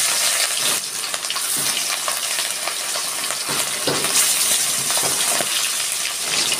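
Hilsa fish pieces rubbed with salt and turmeric crackle and sizzle in hot oil in a wok, a loud, steady frying hiss with occasional sharper pops, close up and without talk.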